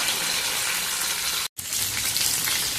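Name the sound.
eggplant pieces frying in a pan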